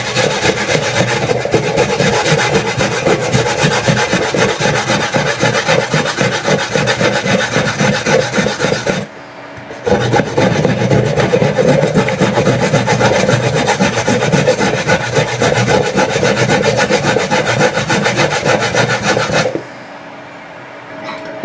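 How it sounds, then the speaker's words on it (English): Carrots are grated by hand with a steady rhythmic rasping scrape that repeats fast and close up, pausing briefly midway and again near the end, with no speech. "I'm just going to grate my carrots."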